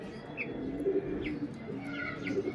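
Pigeons cooing at a pigeon keeper's loft, soft low coos repeating in short phrases with a few faint chirps above them, fairly quiet and close.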